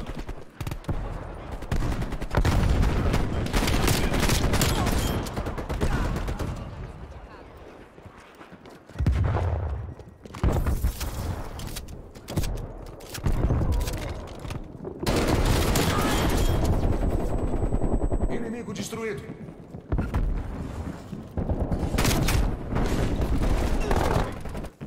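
Heavy, near-continuous gunfire from a Call of Duty Black Ops Cold War multiplayer match, loud bursts of automatic fire and shotgun blasts with brief lulls between volleys, while players talk over the action.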